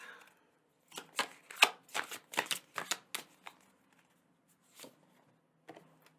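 A deck of tarot cards being shuffled close by, with a quick run of crisp riffling bursts and then a few isolated flicks after pauses. No one speaks.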